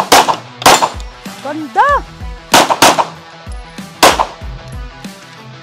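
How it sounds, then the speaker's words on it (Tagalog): Canik SFX Rival S pistol firing, a string of about six loud, sharp close-range shots spaced irregularly over several seconds, with brief spoken remarks and an exclamation between them. "Let's fire this one!"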